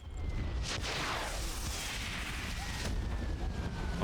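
Artillery fire from a World War I battle scene in the game Valiant Hearts, a sustained roar of booming blasts and rumbling impacts, loud and dense throughout with no talking.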